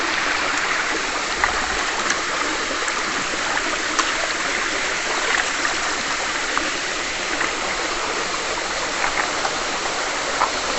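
A small waterfall pours steadily over rocks in a stony creek, giving a close, continuous rushing splash with faint droplet ticks and no voices.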